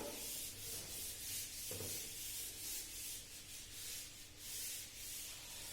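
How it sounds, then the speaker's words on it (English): Someone rubs out writing on a lecture board: a soft, steady swishing rub that continues evenly for several seconds, quiet and close, with no talking. "I will rub it out."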